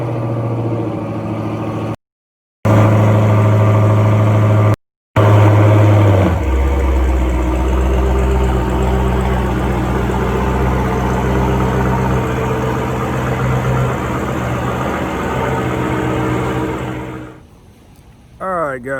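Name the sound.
Dodge Hellcat car engine cold start and idling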